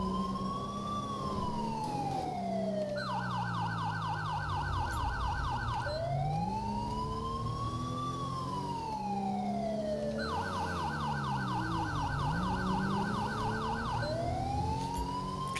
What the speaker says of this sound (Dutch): Zet de sirene alvast uit.